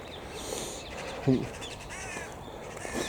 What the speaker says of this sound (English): But maybe it's also cool to come out without headphones, hearing the crows.